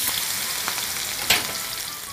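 Green chillies fry with mustard seeds, turmeric and cumin in hot oil, a dense close crackling sizzle with one sharp pop near the middle, no talk.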